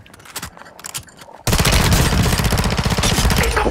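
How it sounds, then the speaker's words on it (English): Rapid bursts of automatic gunfire in Warzone 2.0, with scattered shots at first, then a loud, continuous stream of close rattling fire. "Shooting at me!"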